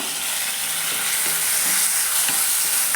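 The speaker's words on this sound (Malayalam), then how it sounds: "ഇനി അതിലേക്ക് വലിയൊരു തക്കാളി ചെറിയ കഷ്ണമായിട്ട് മുറിച്ചെടുത്തിട്ടുണ്ട്. അതുകൂടെ നമുക്ക് ഇതിലേക്ക് ചേർത്ത് കൊടുക്കാം" Chopped tomato hits a hot pan of sautéed garlic, onion and green chili for a raw pumpkin stir-fry, giving a loud, steady close sizzle with faint stirring scrapes.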